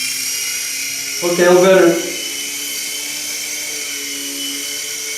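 A small XVB beginner RC helicopter flies after a hand launch, its electric rotors giving a steady high-pitched whine throughout while someone briefly speaks.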